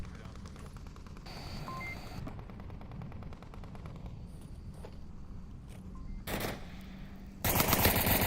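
Gunfire in the VR shooter Onward during a competitive team match: scattered muffled shots over a low background, then two sharp, loud bursts of rapid fire near the end.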